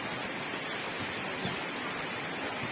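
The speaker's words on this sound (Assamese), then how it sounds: "ইয়াৰ বৰষুণ দি আছে" Rain falling steadily outdoors, a dense even hiss of drops on surfaces that holds constant and fairly close throughout, with no voices.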